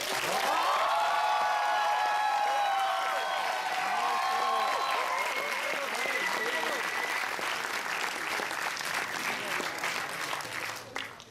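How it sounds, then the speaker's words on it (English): An audience applauds to welcome a speaker onto a stage, sustained clapping from a sizeable crowd with voices and a sung tone over it early on, fading slightly toward the end. "It's always a bit dangerous when the applause comes before the person."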